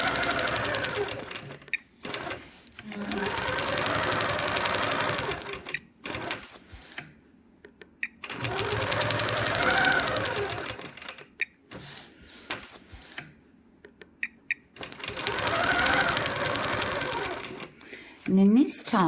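Sewing machine running in long steady bursts of straight-line quilting on a patchwork block, with short pauses between runs and a person talking at times over it.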